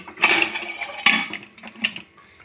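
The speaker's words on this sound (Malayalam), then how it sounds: "ഇതിലോട്ട് കുക്കർ മൂടി വെച്ച്" Metallic clanks and clicks as a heavy pressure cooker lid is set and twisted into place over boiling mackerel curry, a few sharp clatters in quick succession, close by with no talking.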